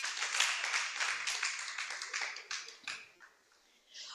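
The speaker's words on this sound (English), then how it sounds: "Please clap for them as they come." An audience applauds panelists arriving at a women's work readiness boot camp, a lively burst of clapping that gradually thins and fades to a few scattered claps, then a short flurry at the end.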